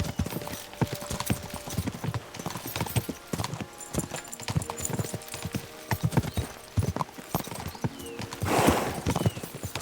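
Horses gallop in the video game Kingdom Come: Deliverance II, a dense, rapid clip-clop of hooves with a brief whinny near the end, loud and close over faint background sounds and no speech.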